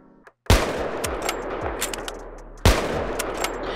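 Two heavy CheyTac sniper rifle shots ring out in modded Unturned, each a sharp, loud crack with a rolling echoing tail, spaced about two seconds apart, with no talk over them.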